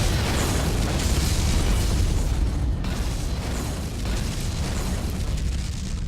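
A Romulan ship blowing up in the space combat game Star Trek Legacy: a continuous roaring, rumbling blast with crackling bursts, loud and sustained throughout with no pause.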